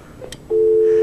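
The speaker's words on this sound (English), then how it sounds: "Now, you'll also hear the dial tone as you do now." Steady dial tone from a Telular SX5e fixed GSM cellular terminal heard through a phone on speakerphone. The tone starts abruptly after a few faint clicks and holds even and loud.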